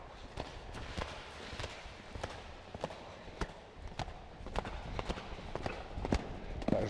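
Horse hooves strike the ground in quick, irregular beats through a show jumping line of obstacles, a steady run of thuds heard at moderate distance.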